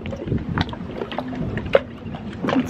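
Gentle water lapping against a boat as a passing wake rolls in on a sunny lake or river, a soft close wash with a few small splashes and a low steady motor hum.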